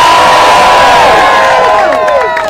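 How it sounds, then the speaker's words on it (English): A crowd at an outdoor voting rights rally roars with cheering and whoops, loud, sustained voices rising and falling together over scattered clapping. "Can we get another round of applause?"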